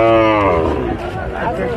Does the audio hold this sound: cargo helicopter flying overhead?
no